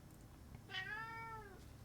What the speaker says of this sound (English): What a silly cat.